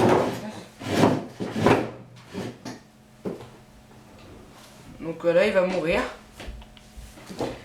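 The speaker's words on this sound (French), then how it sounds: "désolé pour le bruit, c'est ma chaise" A chair creaks and shifts under someone seated at a computer during a Minecraft session, giving several woody knocks and rubbing scrapes, then a longer squeaky creak, heard close between bits of talk.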